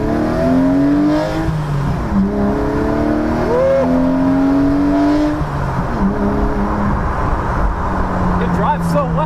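Cheap lightweight sports car with a manual gearbox cruising along, its steady engine drone rising and falling through shifts, carried under ongoing conversation inside the cabin.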